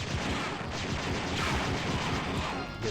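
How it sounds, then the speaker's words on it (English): Rapid blaster fire from the repeater gun in the Star Wars: Dark Forces remaster, a dense, continuous volley of loud game shots and impacts with no talk. "Let's, switch to this repeater gun"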